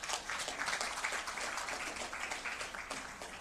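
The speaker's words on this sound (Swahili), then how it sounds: "Tuwapigie makofi mengi sana." Audience applause at a bank's annual financial report presentation, a steady dense wash of many hands clapping at moderate distance, sustained evenly throughout without speech.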